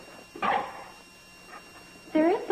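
A dog barks once, then gives a fainter whimper, then barks again in a single loud yelp, close by on a television sitcom soundtrack.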